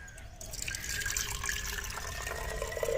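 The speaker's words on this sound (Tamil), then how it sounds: "இப்போ நீங்க இந்த டின்ல கொஞ்சமா தண்ணி ஊற்றிக்கணும்." Water is poured into a small steel tin, a faint, steady trickling pour that fills the short stretch without pause.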